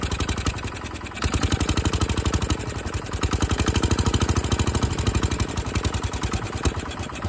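A 1968 Case 155 tractor engine firing up and settling into a loud, close, rapid chugging run with a steady pulsing rhythm, briefly dipping before picking back up, no speech over it.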